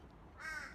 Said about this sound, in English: Oh, there's a bird.